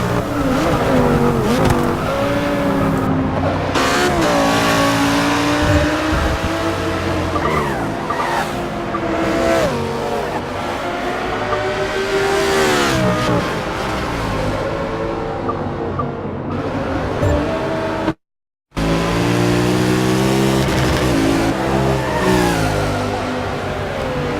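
Race cars, including a Mercedes, roar loudly around a track in a racing video game, with engines revving up and down, tyres squealing and overlapping passes, broken by a brief cut to silence before the roaring resumes.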